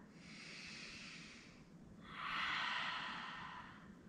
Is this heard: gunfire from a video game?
no